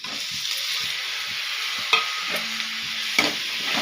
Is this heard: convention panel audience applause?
no